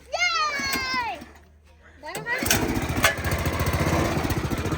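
A running tractor engine chugs loudly and steadily close by, starting after a voice and other talk at the opening and continuing to the end.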